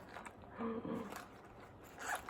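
A zipper on a book-style purse is pulled open in quick short rasping strokes, close and fairly quiet, with no speech over it.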